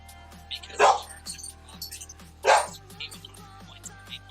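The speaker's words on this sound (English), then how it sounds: "My dogs are always barking at them." Dogs barking in a country town, two sharp loud barks about a second and a half apart, with faint yips and whimpers in between over a steady low hum.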